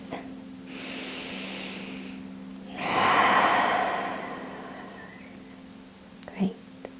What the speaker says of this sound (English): take one last full, powerful breath